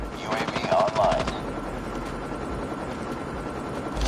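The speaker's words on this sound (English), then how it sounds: "Stealth chopper inbound." A stealth chopper helicopter rumbles in Call of Duty Mobile as rapid automatic gunfire rattles in a loud burst near the start, then the low rotor drone and battle noise continue steadily.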